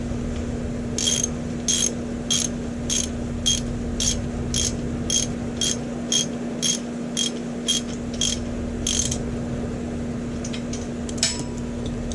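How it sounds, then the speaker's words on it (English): A ratchet clicks in a quick regular series of about fifteen pawl ticks as a nylon lock nut is tightened onto a bolt on a Unistrut solar panel rack, over a steady low hum. "So then I put the lock nut on the bolt."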